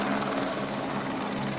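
A Military Police helicopter flies overhead, its steady, dense rotor and engine roar holding constant and fairly loud throughout, with no voices.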